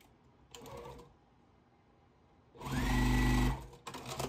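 A sewing machine joins fabric strips for a four-patch basket quilt block: a short run of stitching, a pause, then a longer, louder run of rapid whirring followed by a brief final burst.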